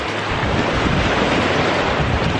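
Wind blowing along the pebbly Lake Como shore on a cloudy day, a steady loud broadband rush with gusty buffeting on the microphone and possible lapping surf beneath, continuous throughout with no voices.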